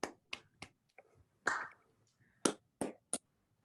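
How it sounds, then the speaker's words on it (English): A few scattered, isolated claps from a small online audience after a mathematics talk, sharp single hand claps spaced irregularly with near silence between them. "Let's give her a round of applause."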